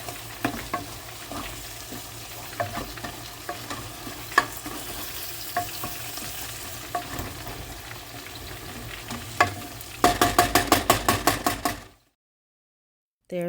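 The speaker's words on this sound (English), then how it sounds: "And I added that jalapeno to the pot" Jalapeno and lamb pieces fry in a pot, a steady sizzle broken by regular stirring knocks and scrapes, turning louder with rapid clattering near the end before cutting to silence.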